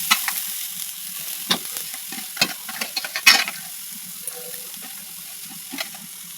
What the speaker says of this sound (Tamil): அடுத்தது தேங்காயும் போட்டு நல்லா வறுக்கணும்.